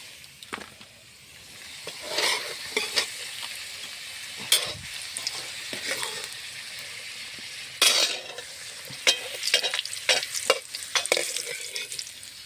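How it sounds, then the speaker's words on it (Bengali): Potatoes frying in hot oil, a steady close sizzle with repeated stirring scrapes and clinks of a utensil against the pan throughout. "আলুগুলো সুন্দরভাবে ভাজা হয়ে গেছে, এখন তুলে নিচ্ছি"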